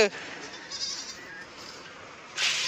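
Goats bleat nearby over a steady background hiss, with a louder burst of noise near the end.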